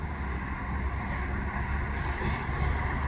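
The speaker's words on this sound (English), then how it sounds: "Oh, and that's the end of the train right there." A train rolling past a bike path in Montreal West, a steady low rumble of wheels on rail heard from nearby as the last cars go by, with no talk.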